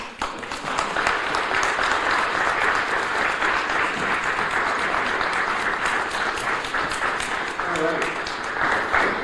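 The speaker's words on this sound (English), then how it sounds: "please join me in a huge round of applause and welcome and thank you to Senator Feeney." A large audience applauds warmly for a state senator at a public energy presentation, dense steady clapping that holds at full strength throughout with a few voices mixed in.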